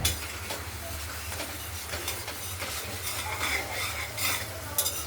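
Spice paste and paneer curry being sautéed and stirred in a pan, a steady sizzle with scraping stirs running continuously and fairly close, no voices.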